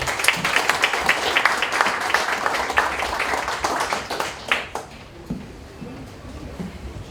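A hall audience at a founding anniversary ceremony in an auditorium applauds at moderate volume, dense clapping for several seconds before thinning out into scattered claps near the end.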